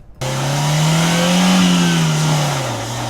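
A small car with a tiny 1-litre engine revs up and holds a loud, steady drone that swells slightly and then eases back down, close and continuous for about three seconds with no talking.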